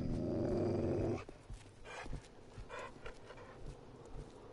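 Panting and growling from a dog in the zombie survival game 7 Days to Die, with a louder rumbling burst at the start and then quicker breathy pants and scuffs, fairly faint, without voices.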